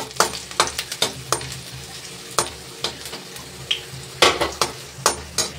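Dried chili and chopped garlic fry in a little oil with a steady sizzle, while a utensil scrapes and clicks against the pan in quick, irregular strokes, close and clear.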